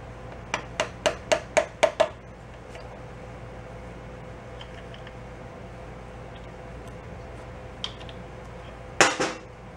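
Metal screwdriver scraping and tapping while prying an old copper crush gasket out of a Honda 250 trials bike engine: a quick run of seven sharp clicks, quiet scraping, then a louder metallic clatter near the end.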